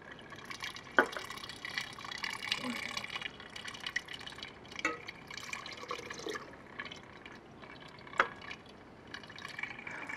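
Ammonium hydroxide poured into water in a lab while preparing pH-adjusted water, a soft trickling and splashing with a few sharper drips, faint and close, alongside a speaking voice.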